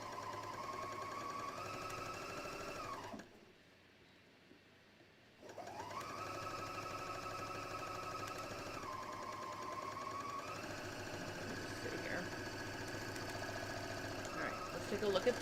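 Sewing machine running a flatlock stitch on skirt fabric at a shortened stitch length, a whining mechanical buzz that stops for about two seconds and then resumes, shifting pitch as speed changes, with a voice talking over it.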